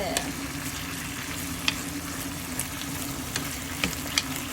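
String beans for adobong sitaw stir-fried in a pan, a steady close sizzle with light scraping stirs and a few soft clinks.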